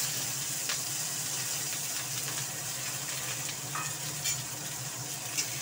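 Whole onion dropped into hot oil with five-spice and cumin seeds, sizzling and crackling steadily throughout, with a few brief clinks of stirring, for a Bengali yardlong bean and potato curry with mustard.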